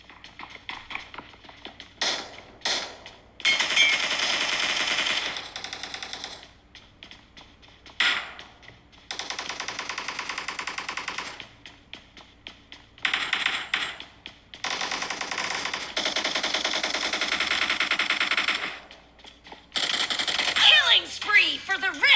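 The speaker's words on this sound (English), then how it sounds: "let's just take a listen to the speakers themselves and you can hear all those gunfires and shots" Rapid bursts of gunfire and shots from a mobile shooter game play through iPhone 13 Pro Max speakers, coming in bright, crackling volleys separated by brief pauses, with game voices popping up now and then.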